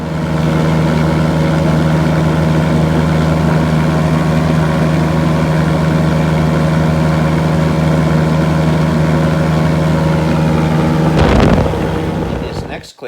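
A Mitsubishi engine drives a Rans light aircraft in level flight at low cruise power, giving a loud, constant droning hum with a steady tone throughout and a brief noisy burst near the end.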